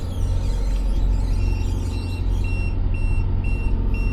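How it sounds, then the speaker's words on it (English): Boat autopilot off-course alarm, a repeating electronic beep pulsing at a steady rhythm over loud engine and water rumble aboard a vessel. "Off course alarm, okay."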